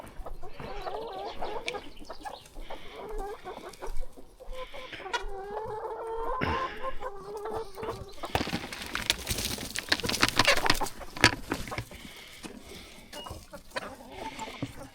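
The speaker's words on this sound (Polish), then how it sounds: "zaraz zobaczycie, że mimo wszystko kury będą biegły za mną, bo tu może być coś lepszego" Farmyard hens cluck and squawk excitedly as they scurry after kitchen scraps such as eggshells and peels, with someone talking intermittently and rustling steps around the flock.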